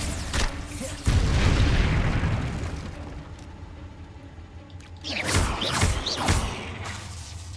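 Bombarda blasting spell exploding in Hogwarts Legacy: a heavy booming blast with a long rumbling decay, then a second cluster of sharp bursts and crackles a few seconds later, loud and close.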